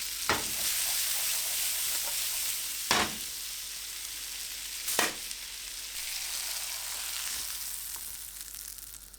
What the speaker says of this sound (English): We're gonna cook the steaks, move them about